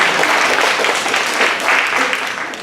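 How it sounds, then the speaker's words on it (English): Audience at a homelessness summit opening session in Monterey and San Benito Counties, California, breaking into sustained applause, a dense wash of many hands clapping that fades slightly at the end. "No, you can clap."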